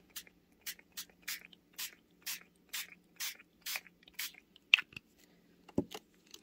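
Spray paint hissing over a foam stencil, in about ten short, even bursts near the mic, followed by a couple of faint knocks.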